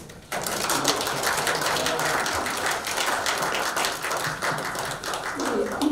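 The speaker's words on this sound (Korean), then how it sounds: "박수 한번 쳐주십시오." An audience claps at a party meeting in a hall, dense, fast clapping that starts abruptly after a brief pause and continues steadily at close range.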